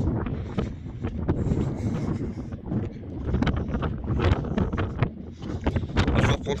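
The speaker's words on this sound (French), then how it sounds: "Encore désolé par avance, il y a encore du vent." Gusty wind at the beach buffets the microphone, producing loud, irregular rumbling bursts and roaring swells that fill the whole stretch without any talk.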